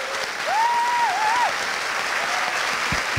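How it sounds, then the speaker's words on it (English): Audience applause for a panel at an evening referendum countdown event: a steady, dense wash of clapping across the whole span, with a sustained whistle-like tone rising over it near the start. "please join me in giving them a round of applause"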